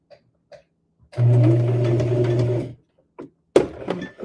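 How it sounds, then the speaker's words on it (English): A sewing machine runs in one steady burst of about a second and a half, stitching a rag quilt. The whirring mechanical drone is fairly loud. Brief quiet clicks and handling sounds come before and after it. "I can keep sewing."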